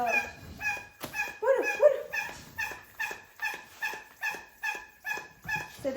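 A pet dog barks and whimpers repeatedly in a steady, rhythmic series of high, yelping cries at close range, each call roughly half a second apart. Someone briefly speaks over the sounds.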